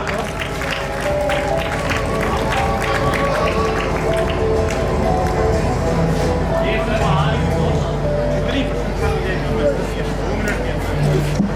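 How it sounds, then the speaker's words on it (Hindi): Children giving loud, sustained applause at a school annual function at JNV Suratgarh, a dense continuous wash of clapping filling the whole stretch with crowd murmur mixed in. "जोरदार तालियां बच्चों।"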